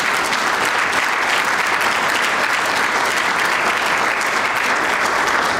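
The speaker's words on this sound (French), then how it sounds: "demander de l'applaudir encore une fois" Loud, dense applause from an audience at a Loterie Nationale du Bénin shareholder event, an even, continuous roar of many hands clapping from start to finish.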